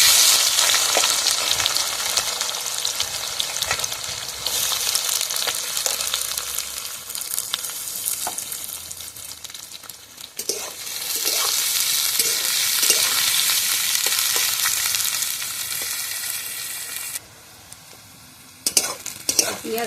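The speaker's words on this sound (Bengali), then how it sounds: "এবার আমি ওই তেলের মধ্যে দিয়ে দেবো পেঁয়াজ আর কাঁচা লঙ্কা" Onion and green chili sizzle steadily in hot oil while being stirred, a dense continuous frying hiss with scattered scraping clinks, loud and close, dipping briefly midway and near the end.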